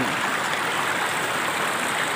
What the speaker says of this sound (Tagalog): dahil sa lalim ng tubig sobrang ingay